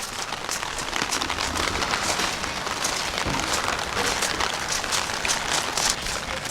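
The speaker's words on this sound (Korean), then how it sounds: "빗소리 좋다" Rain falls on a glamping campsite, a continuous close patter of drops striking surfaces at an even, moderate level throughout, with no one talking.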